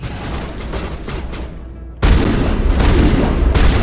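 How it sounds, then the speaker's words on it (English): A shotgun fires in Mass Effect Legendary Edition with loud, heavy blasts, the strongest a sudden booming shot midway that is followed by sustained, rumbling reports. "That is a beefy shotgun."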